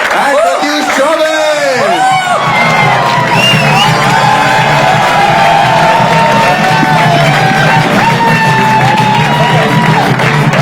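Loud crowd cheering, whooping and shouting as guests Maheep Singh and Pratyush Chaubey come onto the stage of a comedy escape-room show, a dense continuous roar with a few voices standing out.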